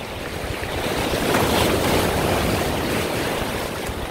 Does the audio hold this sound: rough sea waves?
yes